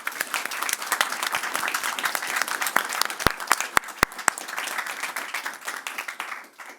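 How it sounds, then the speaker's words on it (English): An audience at a policy panel event applauds the speakers, with steady, moderately distant clapping that carries on for several seconds before fading at the end. "Big round of applause."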